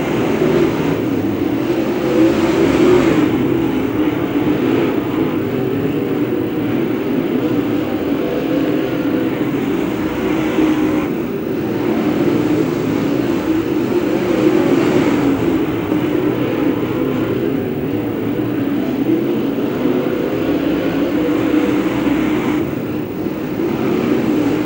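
Modified race cars roar around Macon Speedway during a feature race, a dense, continuous engine drone that swells and fades as cars pass, loud and unbroken throughout.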